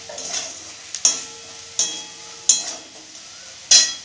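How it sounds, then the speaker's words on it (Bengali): Cumin powder and spice paste fry in a pan for a tomato and eggplant curry, a soft sizzle punctuated by four sharp spoon strikes against the pan at roughly regular intervals as the mixture is stirred. "দিয়ে মশলাটাকে ভালো করে কষিয়ে নিব"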